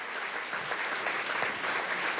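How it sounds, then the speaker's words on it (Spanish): Audience at an international congress gives steady, full applause, a dense wash of clapping from a large crowd that holds at an even level throughout, with no talk over it. "Un aplauso para el Uruguay, para Eduardo Galeano y para Diana."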